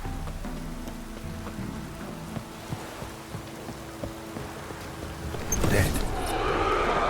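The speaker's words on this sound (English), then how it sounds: "Looks like rain." Rain falls in the video game The Witcher 3, a soft steady patter beneath quiet background music that swells into a louder wash of rainfall toward the end.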